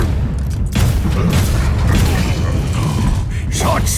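Mechanical clanking and ratcheting of Torbjorn's turret deploying in the video game Overwatch, loud and continuous amid gunfire booms and battle noise, with voice lines mixed in.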